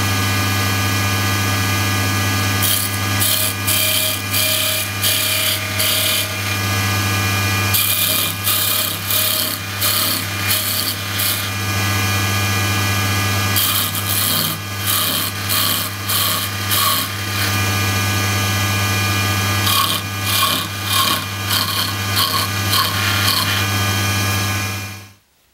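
A wood lathe spins a spinning top stem while a tool cuts detail into it, giving a steady loud hum with rhythmic scraping rasps that come and go in bursts over half a minute.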